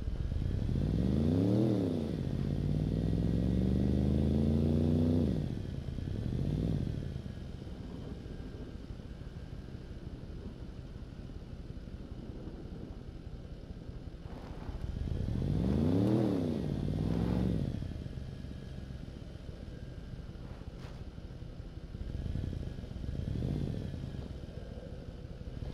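A vehicle engine drones steadily while driving in the survival video game SCUM, with repeated rising and falling revs and gear-shift sweeps over a constant rumbling hum.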